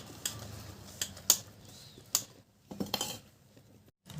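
Gram flour batter for onion bajji being mixed in a bowl: a few sparse, light clinks and scrapes of a spoon against the bowl, fairly faint, with quiet gaps between strokes.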